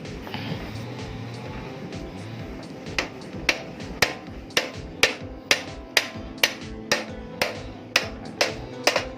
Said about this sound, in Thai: แล้วก็ใช้ค้อนเคาะลงไปนะครับ